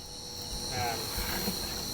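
Crickets trill in a steady high continuous buzz during a nighttime cricket hunt outdoors, close and constant, with faint rustling and brief low sounds underneath.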